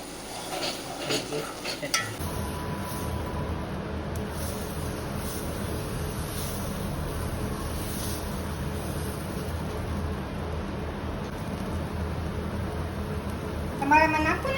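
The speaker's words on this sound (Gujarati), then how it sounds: "ચટણી થઈ ગઈ, હવે આને વઘાર કરવાનો છે." Chutney gets its tempering (vaghar) in a pan: after a brief moment of utensil clatter, a steady, fairly quiet hiss and sizzle of frying runs on evenly, with faint stirring scrapes.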